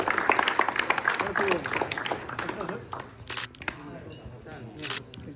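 Audience clapping at an indoor futsal league award ceremony as a belated prize is handed out, the applause scattered and fading under continuous talk, with a few sharp camera-like clicks.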